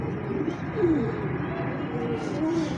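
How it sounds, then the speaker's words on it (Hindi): A female teddy-type pigeon coos softly and close, a few low, drawn-out throaty notes over steady background noise. "बड़ी अक्लमंद कबूतरी है दोस्तों"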